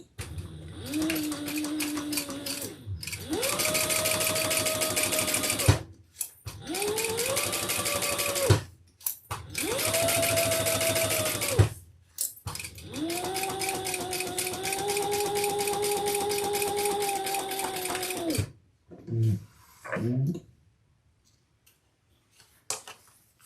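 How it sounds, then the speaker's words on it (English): A sewing machine top-stitches a thick lambskin leather wristlet crossbody bag, running in several long bursts of rapid, steady needle chatter with brief pauses between, close and loud, ending in a few short stitches and quiet. "I'm going to top stitch."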